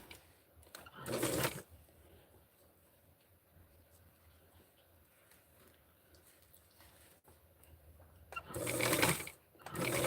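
A sewing machine stitches close to the edge of a Barbie doll dress fabric, two short loud whirring runs at the start and end separated by quiet handling noise.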